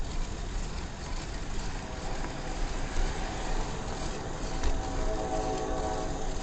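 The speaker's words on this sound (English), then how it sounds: "Oh, fuck yeah, train." A train rumbles past nearby in a steady, loud wash of broadband noise, with faint horn tones and wheel clatter rising briefly around the middle before the passage continues unbroken to the end.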